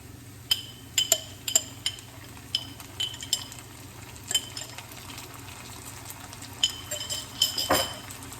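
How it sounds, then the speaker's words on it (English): A spoon stirs peppers into a dish of spicy salmon and brown rice, giving a series of sharp, bright clinks against the dish at an irregular pace, close by and fairly quiet, with no talking. "So we're going to take a spoon and we're going to throw the peppers in there."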